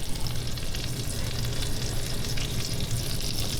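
Onions frying in a hot pan with olive oil, a steady crackling sizzle that holds evenly throughout, close and fairly loud with no talking.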